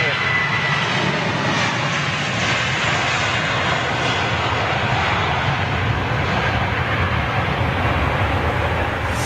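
A Virgin Atlantic Airbus A350 at Heathrow Airport produces a steady, loud jet engine roar that holds without break throughout, with broadband rumble and hiss.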